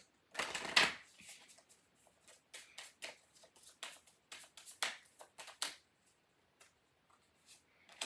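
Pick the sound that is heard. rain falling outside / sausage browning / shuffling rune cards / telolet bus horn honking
shuffling rune cards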